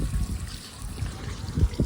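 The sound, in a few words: water running from a line into a pigeon water tank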